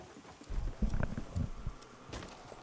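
Horse hooves clip-clopping as a sound effect, a short cluster of clear hoof knocks at close range, with no voices over them.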